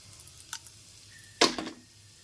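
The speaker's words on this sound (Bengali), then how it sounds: "এবার এতে হাফ টি স্পুন গোটা জিরে দিয়ে দিলাম দিয়ে দিচ্ছি দুটো শুকনো লঙ্কা আর দুটো তেজপাতা" Whole cumin seeds, dried red chillies and bay leaves drop into hot oil for dalia khichuri, giving short crackling sizzle bursts, a small spit first and then a louder hiss that fades quickly, over a quiet background.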